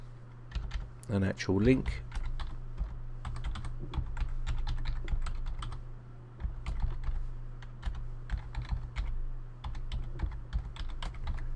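Rapid, uneven clicks of typing on a computer keyboard sound close and fairly quiet against a steady low hum, with a short bit of speech near the start.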